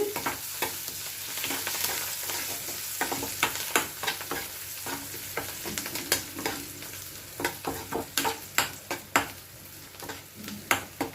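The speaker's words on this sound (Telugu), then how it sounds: "ఇంకా తాలింపు వేగిందండి" Tempering spices for yogurt vada sizzle gently in hot oil while a spoon clicks and scrapes against the pan in quick, irregular taps, growing more frequent toward the end.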